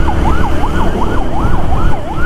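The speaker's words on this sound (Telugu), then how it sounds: "అంబులెన్స్" Ambulance siren wailing on a road near a dangerous turning, a loud rising and falling two-tone sweep repeating steadily about every half second over traffic rumble, close and alone without talk.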